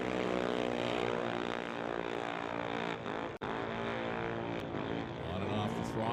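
A drag racing car at a dragstrip in Wembley, Alberta, its engine roaring steadily and loudly with rich harmonic tone, briefly cutting out for a split second mid-run before surging back on the throttle.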